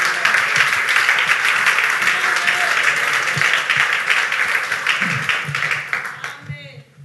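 A church congregation bursting into sustained loud applause and cheering, a dense crowd of clapping hands mixed with voices, holding steady before fading out at the end.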